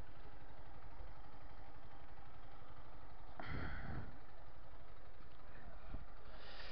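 A motorcycle engine idles with a low, steady throb, broken by a sudden louder clatter partway through.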